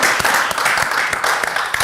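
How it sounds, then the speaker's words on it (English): A crowd at an event in a Nigerian Nollywood drama gives a burst of close, dense hand clapping that continues steadily throughout. "Let's clap for her again."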